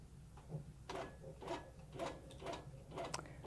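A Handi Quilter longarm quilting machine stitches a crosshatch design, quiet rhythmic mechanical ticking and clacking in regular pulses against a soft background hum.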